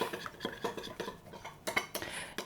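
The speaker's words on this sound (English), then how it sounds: "And now I just whisk it." Whisk beating a yogurt dressing for German cucumber salad in a bowl, a run of quick, close clinking strokes with a steady irregular rhythm and no talk.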